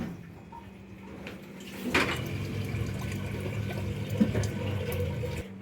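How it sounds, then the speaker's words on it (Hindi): Water pours into a jug at home, a soft, steady trickling and splashing fill heard close by, with a few faint knocks and clatters of household handling around it. "चले अब ये जग भरने लगा है पानी का।"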